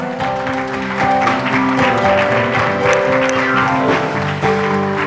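Applause breaks out at a church service, a loud and steady spread of clapping with tonal music or voices sustained underneath, lasting several seconds without a pause.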